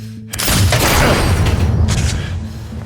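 Gunfire in a dramatized scene, a sudden heavy boom followed by a rumbling burst that stays loud and close, sounding more like an explosion than distinct separate shots.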